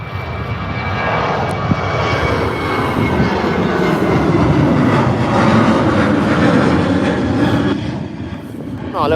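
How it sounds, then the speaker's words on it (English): Fly4 Airlines plane at Birmingham airport, its jet engine roaring loud and steady throughout as a broad sustained wash of noise, with no talk over it. "Not a little bad plane, but nice livery on the Fly 4 Airlines"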